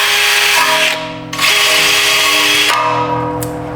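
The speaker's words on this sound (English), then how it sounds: "So we just use the wire brush." A power drill spins a wire brush to scrub superficial rust off the front brake parts of a 2021 Jeep Grand Cherokee. It gives loud, close, rough whirring in two long runs, separated by a brief dip where the tool slows and speeds up again.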